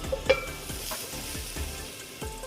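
Bitter gourd and potato curry simmering in a pan after water is added, a soft crackling sizzle with a few light utensil knocks, fairly quiet and close.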